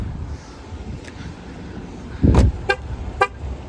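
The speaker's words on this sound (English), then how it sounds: "And with those 3 honks, the vehicle is telling me that it is still running" A 2025 Jeep Grand Cherokee L horn honks three times to signal the vehicle is still running, one longer blast followed by two short toots, over quiet outdoor background noise.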